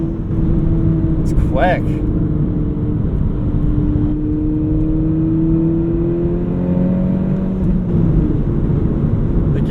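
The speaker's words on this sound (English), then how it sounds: "Got some burbles on the way out." A track-modified VW Mk5 GTI engine drones loudly and continuously from inside the car, its pitch sweeping up and down with revs, while someone briefly speaks over it.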